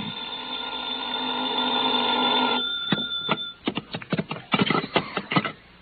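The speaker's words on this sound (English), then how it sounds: "I was still in bed when the phone rang." An old-time radio drama telephone rings in a steady, continuous bell burst for a few seconds, then stops, followed by a run of sharp clicks and clatters.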